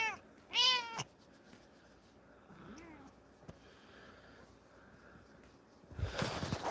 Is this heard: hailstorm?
no